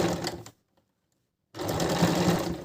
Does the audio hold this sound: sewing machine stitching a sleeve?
yes